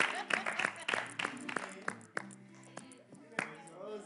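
A small audience claps in scattered, uneven bursts, with distinct individual claps standing out while voices and talk continue over them, fairly quiet overall.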